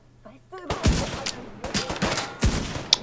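A weapon fires in The Division 2 video game in several close, loud bursts of rapid shots with sharp cracks, and a brief voice is heard just before the shooting begins.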